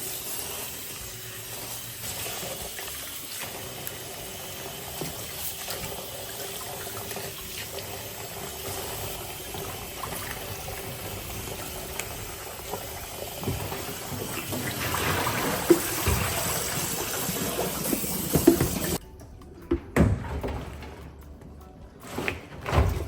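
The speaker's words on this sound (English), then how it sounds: "This is my last time rinsing it." Onion and tomatoes rinsed under a running kitchen tap, a steady close splashing hiss of water that lasts about eighteen seconds, then cuts off, leaving quieter handling noises.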